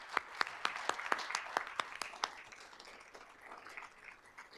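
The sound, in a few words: audience applause at awards ceremony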